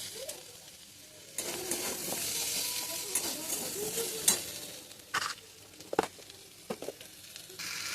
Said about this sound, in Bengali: একটু ভালো করে নাড়াচাড়া করে মশলাটা কষিয়ে নেব।